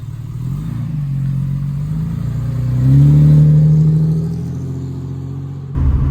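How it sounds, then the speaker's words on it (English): A Chrysler Valiant AP6 six-cylinder engine revs up from idle, rising to a loud, rough peak around the middle and easing back down, heard close and alone. "It's got that typical Valiant sound when you sort of put the foot down a bit, but it idles nice."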